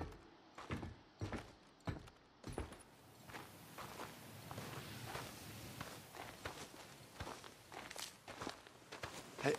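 Heavy boot footsteps in the Days Gone video game, a run of thudding steps at an uneven pace, close and fairly loud, heard with no talking.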